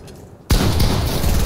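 A sudden loud burst of gunfire in Fortnite, one sharp blast followed by a sustained roaring rumble of rapid shots and explosions, close and heavy.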